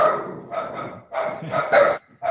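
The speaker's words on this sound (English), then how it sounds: "I was wondering where the dogs were and why they were so well behaved." Dogs bark indoors in short close bursts, several loud yips and barks coming in quick irregular clusters with brief pauses.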